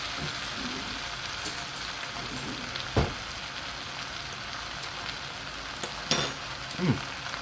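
Thai pineapple fried rice being stir-fried in a pan: a steady, moderately loud sizzle with a constant crackle, broken by a few sharp scrapes and clinks of the spatula against the pan, and no talking.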